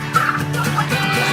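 Domestic turkeys gobble loudly and continuously on a Massachusetts turkey farm that raises thousands of birds. Overlapping warbling calls from the flock sit over a steady low hum, close to the birds.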